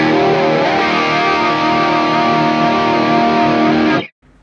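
A distorted electric guitar with a chorus effect plays a thick, sustained, shimmering chord sound for about four seconds, loud and alone, then cuts off abruptly.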